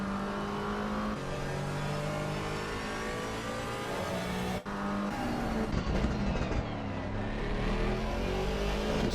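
Mercedes-AMG GT4 race car in a racing game growls loudly, its engine note climbing and dropping through gear changes, with a brief cut midway, no talking over it.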